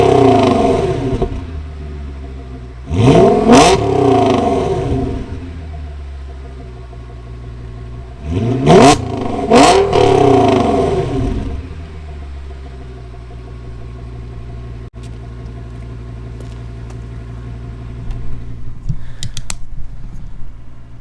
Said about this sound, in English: So let me go give it a couple of revs.